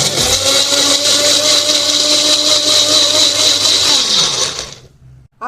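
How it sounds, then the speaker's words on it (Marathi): A kitchen mixer grinder whirs loudly as it blends watermelon chunks with sugar for juice, a steady high-pitched motor drone holding for about four seconds before spinning down and cutting off. "आता हे आपण मिक्सरमध्ये बारीक करूया।"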